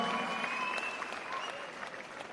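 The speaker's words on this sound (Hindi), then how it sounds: "जोरदार तालियां हो जाए।" Loud, dense audience applause fills the hall throughout at a Khelo Bharat sports program event addressed by Amit Shah, steady and sustained with no pause.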